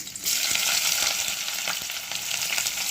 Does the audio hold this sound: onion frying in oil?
yes